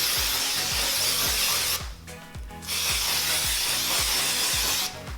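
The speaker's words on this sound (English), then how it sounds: "I'm gonna take this spray and spray it all over, coating each strand" IGK No More Blow high speed air dry spray hisses in long continuous bursts as it is misted onto strands of hair, close and loud, with a short pause between sprays.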